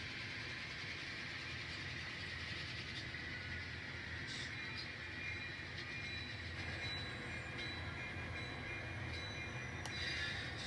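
An N scale model train runs along its track, making a faint, steady low rumble with occasional light clicks and ticks, quiet and without talk.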